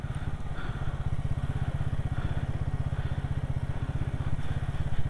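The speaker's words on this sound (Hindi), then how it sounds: "धीमे धीमे पहले गियर पे इंजन ब्रेकिंग के साथ" A vehicle creeps downhill in first gear under engine braking on a rough, snowy mountain road in Spiti Valley. Its engine gives a close, steady, rapid chugging pulse with a low throb throughout, with no talk.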